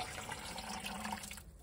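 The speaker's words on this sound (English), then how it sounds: "you can actually hear it dripping down" Liquid from a small homemade worm farm trickles down in a faint, steady wash that stops abruptly near the end.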